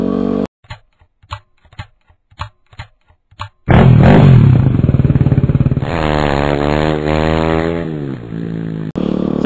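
Yamaha WR250R dual-sport motorcycle being ridden: a few short bursts early on, then a loud, close engine that revs up through rising gear pulls and holds a steady drone until it suddenly cuts out near the end.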